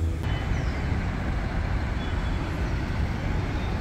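Street traffic on Avenida Salaverry in Jesús María, Lima, Peru: a dense, steady wash of engine and tire rumble from passing cars, buses and trucks, continuous and fairly loud with no clear voices.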